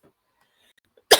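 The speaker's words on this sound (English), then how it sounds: "Sorry, I have a strong cough." One strong, loud cough bursts out abruptly near the end after near silence.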